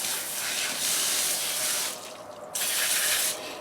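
Clay and water slurry made from backyard soil being poured, a steady, close liquid rush that dips briefly midway and then resumes.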